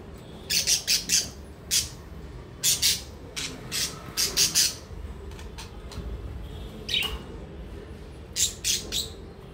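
Two pet birds squawk and chirp in short, loud bursts while they fight, the harsh calls coming in clusters with brief pauses and no talking in between.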